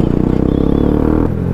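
Bajaj Pulsar NS200 motorcycle engine running at high revs, a loud, steady buzzing drone with a sharp drop in pitch near the end of the short burst.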